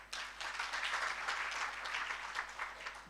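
An audience at a health forum bursts into applause, a dense, steady wash of many hands clapping that holds at an even level throughout.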